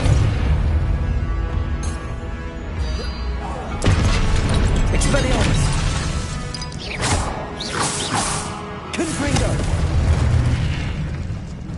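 Spells being cast in Hogwarts Legacy, with a loud, continuous wash of magical blasts, booms and crashing impacts that surges repeatedly over twelve seconds and has a few sharp hits standing out.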